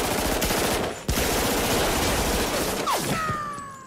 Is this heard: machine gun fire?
yes